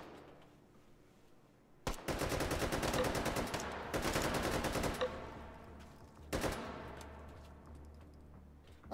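An AK fires in long, fast automatic bursts in the game H3VR Take and Hold, three sustained runs of loud, dense gunfire with sharp onsets and a ringing tail, with no voices.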